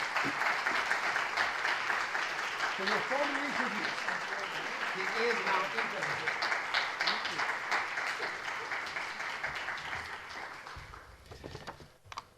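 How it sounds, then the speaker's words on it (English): An audience at an evening museum lecture applauds to welcome the curator, a steady, dense wash of clapping from many hands that holds for about ten seconds, then thins and fades out. "a big hand of applause"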